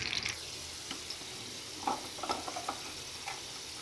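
Hot oil of a tadka for beef nihari sizzles briefly at the start, then a quiet background hiss carries faint clinks and stirring taps scattered through the rest.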